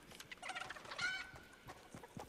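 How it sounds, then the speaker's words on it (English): Chicken clucking in Fortnite: a short run of quick, fairly faint clucks and squawks, with no voices over it. "I want to catch the chicken."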